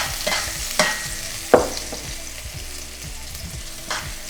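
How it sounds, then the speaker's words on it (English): Chopped white onion starting to fry in a pan with toasted spices, giving a steady close sizzle with a few sharper pops and stirring clinks. "Our spices are toasted, our onion is starting to fry."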